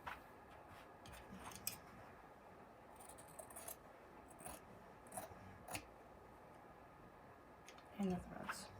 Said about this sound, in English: And cut these threads off.